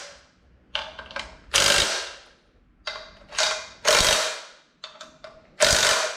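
A wrench ratchets in quick clicking strokes while tightening bolts on a Jeep hoist, in repeated bursts of a few seconds with short pauses between.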